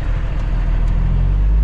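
A truck with a trailer attached rolls forward after its brakes release, producing a steady, loud low engine rumble heard from inside the cab with no talking.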